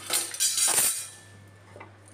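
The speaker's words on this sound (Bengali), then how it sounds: "আর এখন কাপগুলোকে গুছিয়ে নিচ্ছে" Ceramic cups being arranged in a home kitchen after dishwashing, a few bright clinks and knocks close by in the first second, then a quieter shuffling tail.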